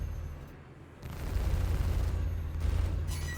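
Missiles fire in the Star Citizen space game, a muffled whooshing burst that swells into a sustained rumbling roar with a second surge near the end, fairly close with no talk.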